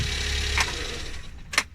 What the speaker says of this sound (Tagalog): Patayin na po natin yung ating makina.